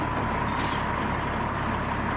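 A truck on a muddy road-rebuilding job site rumbles loudly and steadily, with a sharp hiss of an air brake bursting in briefly partway through.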